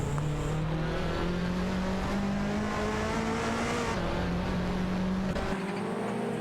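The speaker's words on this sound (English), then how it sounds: "Racing car dashing away." Racing car in a racing game speeding away, a loud steady engine whine with harmonics rising and shifting in pitch as it accelerates, continuous and close throughout.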